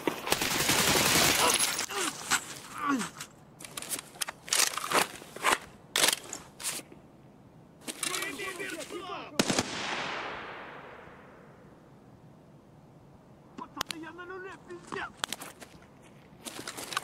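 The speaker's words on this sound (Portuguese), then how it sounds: "Parece que tem gente atirando lá de fora." Bursts of gunfire in the video game Escape from Tarkov crackle in short clusters from outside, mixed with loud close shots, footsteps and brief quiet gaps, while someone talks over parts of it.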